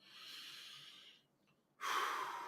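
Two deep breaths drawn close to the microphone during a relaxation practice: a long airy breath, a brief pause, then a stronger rushing exhale, with no talk.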